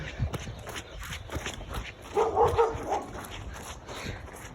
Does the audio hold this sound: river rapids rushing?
no